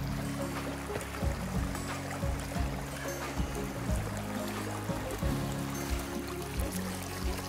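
Steady rushing and splashing of flowing water up close while wading across Rocky Creek on a hike near Rocky Falls Shut-Ins in Missouri, with no voices.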